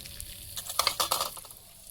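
Chicken pieces dropped into hot oil already used for frying potatoes with dried red chillies and bay leaf, sizzling and crackling in bursts that swell in the middle and fade, with a light stirring scrape; no talk.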